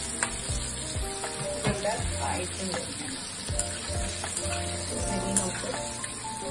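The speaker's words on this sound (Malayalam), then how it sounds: "അതൊക്കെ ഫ്രൈ കൊള്ളുന്നതും ഒരു 3 minutes നമുക്കത് ഫ്രൈ ചെയ്തിട്ട് എടുക്കാം" Small pieces of chicken for crispy honey chicken frying in hot oil, a dense steady crackling sizzle with frequent spatters and pops, close and loud, with a brief word spoken over it.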